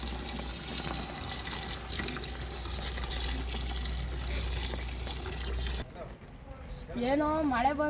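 Water being poured into a cooking pot of biryani masala with turmeric, chilli powder and salt, a steady rushing splash for several seconds before a voice begins talking.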